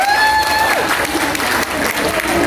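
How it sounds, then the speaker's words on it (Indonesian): Loud applause from a mostly female audience at a gathering, a brief burst of dense clapping with a few whistles or shouts near the start, steady throughout. "Tepuk tangan untuk kita semua."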